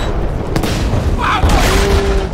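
A bomb explosion in Battlefield 5 booms loudly against a dense wall of game noise, with a sharp burst followed by a sustained rumbling roar that fills the whole clip.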